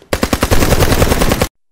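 Rapid gunfire shot into the air, a burst of loud, close reports opening in a few spaced bangs and then running into a dense automatic volley before cutting off abruptly.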